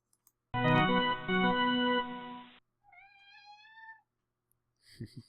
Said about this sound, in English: That's my kitty Mags there, cheering on the Blackhawks.